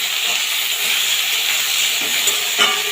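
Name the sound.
peanuts, coconut and potatoes frying in oil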